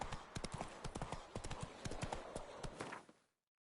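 Roach the horse trots in The Witcher 3, with brisk, evenly spaced hoof clops close by. The rhythm holds steady for about three seconds, then fades quickly to silence.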